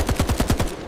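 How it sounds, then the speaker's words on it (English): A quick burst of automatic gunfire, about six sharp rapid shots in a row, loud and close. "gunfire erupted"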